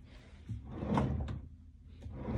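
A self-closing drawer in a hotel room slides shut on its own with a soft gliding rub and a muffled thump near the end, close by and quiet, with no voices.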